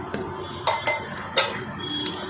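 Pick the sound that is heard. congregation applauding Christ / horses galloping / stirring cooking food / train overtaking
stirring cooking food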